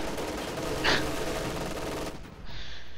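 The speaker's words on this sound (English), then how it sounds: "MG42 firing from position right here will force 2 retreats from those squads of riflemen." An MG42 machine gun fires in a World War II strategy video game, heard as a steady dense clatter of gunfire amid general battle noise, with a short sharper burst and a brief lull before the noise resumes.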